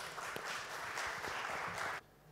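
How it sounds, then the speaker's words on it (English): Applause from a press-conference audience at a music launch: a steady wash of many hands clapping for about two seconds, moderately close, then cutting off abruptly into quiet room tone. "Big round of applause, everybody."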